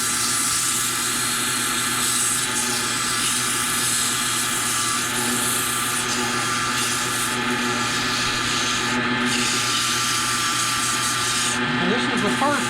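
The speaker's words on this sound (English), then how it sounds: "I'll sand it a little bit for you here." A freshly turned wooden piece is hand sanded on its first grit, producing a continuous, close rasping rub that stays even and unbroken throughout.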